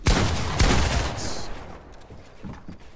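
Assault rifle fire in a Fortnite 1v1 Zone Wars match, two loud close bursts of rapid shots followed by fainter scattered shots fading into quieter background game noise.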